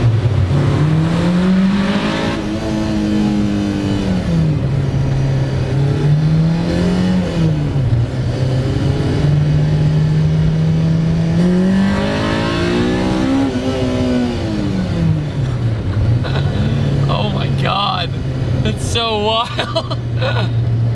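An Acura Integra with a swapped K20a engine drives along, its steady engine drone rising and falling in pitch as it revs up and eases off through the gears, loud and continuous from inside the car.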